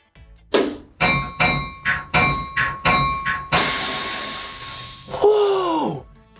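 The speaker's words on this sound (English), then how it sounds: "that was the air that runs the bell" A locomotive's air-powered bell clangs eight times in a steady rhythm, loud and close, then a long burst of compressed air hisses, ending with a rising-and-falling whistle-like tone.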